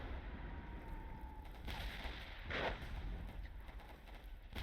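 Artillery bombardment in the WWI shooter Warfare 1917, with distant muffled blasts and thuds scattered over a dense, steady rumble of battle noise, one burst standing out slightly louder midway.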